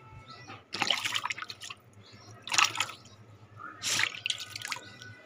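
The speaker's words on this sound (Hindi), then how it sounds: "तो पहले थोड़े हम हाथ धो लेते हैं और फिर खाएंगे खाना" Water from a tap splashes in short bursts as hands are washed, quiet and close, with three or four distinct splashes separated by softer trickling.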